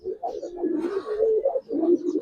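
Silver giribaz pigeon, a large male, cooing in repeated low rolling phrases, close and steady, with a faint murmur of background voices.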